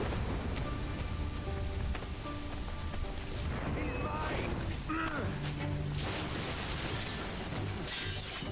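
Rain falls steadily in the video game Assassin's Creed 4 Black Flag, a constant hiss over the whole scene with ship creaks, clanks and voice-like sounds layered on top.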